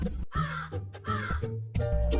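A crow caws several times, loud and close, with harsh, raspy calls separated by short pauses.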